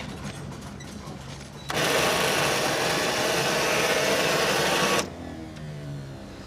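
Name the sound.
old tractor engine starting up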